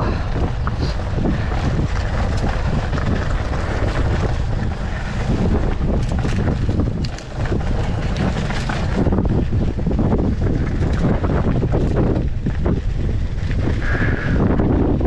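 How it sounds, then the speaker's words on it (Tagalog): Strong wind buffeting the microphone on a hanging bridge over the Mamala River, a heavy, constant low roar with gusts rising and falling and no voices. "Sarap na hangin."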